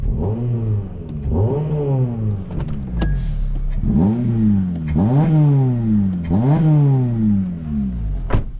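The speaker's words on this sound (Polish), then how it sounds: "No auto brzmi naprawdę bardzo ładnie" A 2007 Honda Civic Type-R engine revs hard in repeated rising bursts, about six climbs in pitch, loud and close with no talking.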